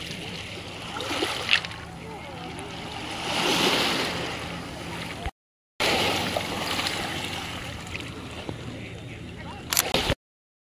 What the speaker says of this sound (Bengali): আমাদেরকে পার করে পানি অনেক দূরে চলে যাচ্ছে